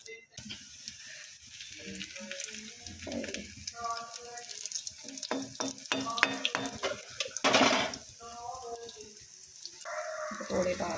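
Food frying in a pan is stirred with scattered scrapes over a low sizzle, while someone talks throughout and a louder hissing burst rises midway.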